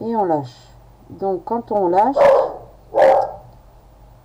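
A dog barks at someone at the door, with two loud bursts that break in over a woman explaining a knitting stitch nearby.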